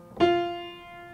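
A single sustained out-of-tune piano note struck once, ringing and slowly fading, with a faint wavering beat in its tone as it decays.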